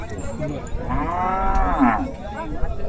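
A Gir cow moos once at a cattle market, a long loud low call lasting about a second, close by against faint background noise.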